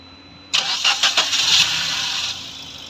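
A Maruti Suzuki Swift with a check-engine fault cranks briefly and starts, then settles into a steady idle close by.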